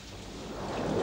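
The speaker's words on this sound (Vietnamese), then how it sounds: "Ở ngoài mưa lớn như vậy" Heavy rain falls outside in steady broadband hiss, with a low rumble beneath that swells slightly toward the end, with no voices.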